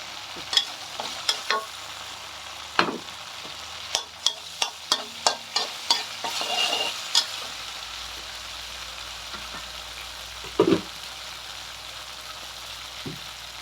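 Pork for rad na noodles fried and stirred in a pan with a little sesame oil: a faint steady sizzle broken by a run of sharp clanking spatula strikes, then a few scattered scrapes later.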